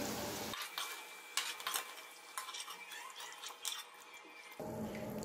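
Chicken pieces fry golden brown in oil in a kadai, crackling and sizzling steadily up close with occasional spoon-and-pan clinks and stirring scrapes, and no talking.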